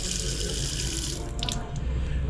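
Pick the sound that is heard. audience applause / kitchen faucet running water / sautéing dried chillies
kitchen faucet running water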